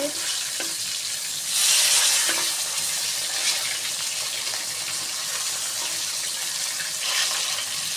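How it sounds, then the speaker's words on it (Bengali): Fish frying crisp in hot oil in a pan produces a loud, continuous sizzle close by, swelling briefly into a sharper hiss early on, with no talk over it. "একদম কড়া করে মাছগুলো ভাজা করবো"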